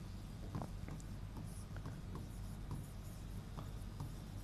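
Chalk or marker writing on a board during a lecture on educational management in Rajasthan, with soft scratchy strokes in short bursts over steady room hum.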